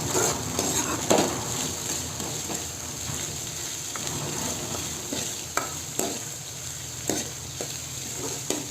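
Mint leaves are stir-fried into egg fried rice in a hot pan, a steady sizzle running throughout with irregular spatula scrapes and taps against the metal, close and moderately loud, with no voices.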